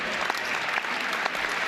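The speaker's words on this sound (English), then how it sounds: "receives applause from the crowd" Crowd applause in a college basketball arena during an NCAA Division III men's tournament game, Hope vs. Albion, as a player checks out late in the game; steady, dense clapping fills the whole moment at moderate distance.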